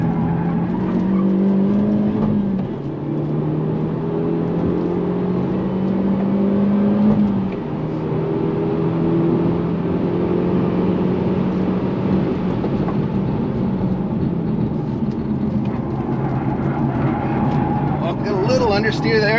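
A 2022 Hyundai Elantra N is pushed hard around a race track, its engine droning and rising in pitch through gears with tire noise, loud and steady throughout, with someone talking over it.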